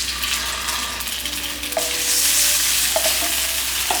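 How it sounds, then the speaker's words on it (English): Marinated salmon pieces go one by one into a hot pan, producing a loud, steady sizzle and crackle that swells as more fish lands, close by with no talk. "So we're just going to pop this onto the pan one by one."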